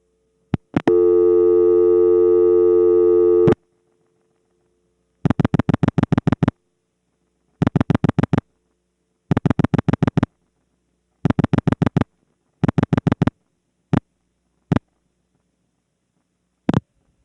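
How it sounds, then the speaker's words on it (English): A 1979 telephone trunk handshake: a steady buzzing tone holds for about three seconds as the trunk goes off-hook and on-hook, then bursts of rapid clicking pulses follow in short groups, ending with a few single clicks. "The Gainesville trunk goes off-hook and then on-hook."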